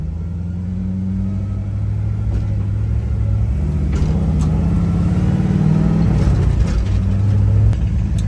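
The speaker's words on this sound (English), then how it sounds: "when I turn, the rear end like makes a lot of noise. So I think it's the spider gears" A car with worn rear-end spider gears rumbles through a corner, the steady engine drone joined by uneven grinding and clunking from the rear axle as it turns, heard from inside the cabin.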